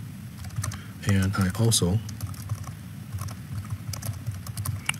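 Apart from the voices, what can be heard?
typing on a computer keyboard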